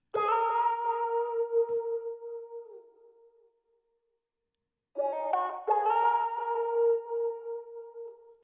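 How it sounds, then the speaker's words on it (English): A melodic sample processed with lo-fi filtering, EQ cutting the lows, reverb and delay plays sustained tones whose echoes trail off into silence before a second phrase of layered notes returns. "And then again we have a reverb and a delay."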